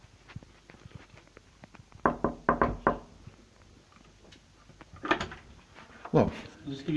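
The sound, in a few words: front door being closed and door chain put on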